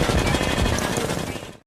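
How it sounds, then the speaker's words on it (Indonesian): Rapid gunfire from a shooting test in the Suicide Squad film rattles out as a fast, continuous burst of loud shots, then cuts off abruptly. "Mereka juga menguji kemampuan si botak Deadshot dalam menembak."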